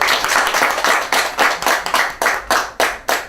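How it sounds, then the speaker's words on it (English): A round of applause at a graduation ceremony, with distinct hand claps, fairly loud and close, tapering into a few separated claps near the end. "Round of applause."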